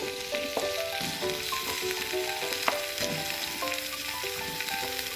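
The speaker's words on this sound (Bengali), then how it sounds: "প্রথমে আলু দিলাম এরপর গাজরটা দিয়ে দিচ্ছি" Potatoes and carrot sizzle steadily in a frying pan with light stirring knocks, while a tuneful melody plays along underneath throughout.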